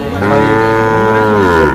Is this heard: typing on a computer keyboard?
no